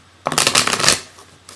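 A quick riffling shuffle of oracle cards, a dense burst of papery flutter lasting under a second, close and fairly loud, then a faint tap.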